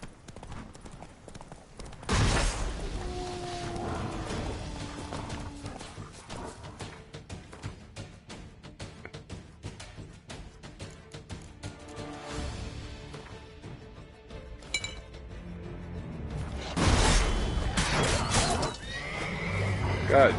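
Roach the horse in The Witcher 3 neighing and clip-clopping, with bursts of hooves and whinnies near the start and toward the end, and someone talking quietly between them.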